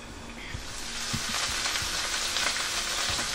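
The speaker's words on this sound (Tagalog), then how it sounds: "Yung bahagya na pong napiprito natin ang beef" Beef marinated in calamansi and soy sauce frying in a pan for Filipino-style beefsteak, a steady close, crackling sizzle with occasional sharper pops and stirring knocks throughout.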